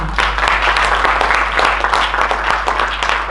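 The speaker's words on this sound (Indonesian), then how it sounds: "Boleh minta tepuk tangannya." Audience applause at the close of an event, a dense continuous clatter of many hands under a steady low hum, fairly loud and even across the whole moment.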